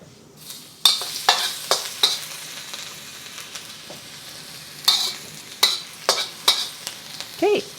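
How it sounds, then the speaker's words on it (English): Garlic frying in vegetable oil in a hot wok for char kway teow, with sharp bursts of stirring and scraping over a steady sizzle, close and fairly loud. "You're gonna add 1 tablespoon of vegetable oil. And we're just gonna get our garlic going."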